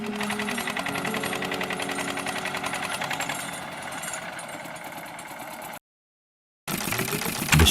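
An 1871 Schmidt hot-bulb water engine runs with a steady, dense mechanical clatter and rapid repetitive knocking, loud and close, cutting out briefly near the end before resuming.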